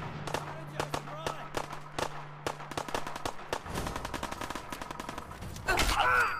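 Fallout 4 video game gunfire: rapid bursts of sharp shots crackle in quick succession, some overlapping like automatic fire, with people talking over the action.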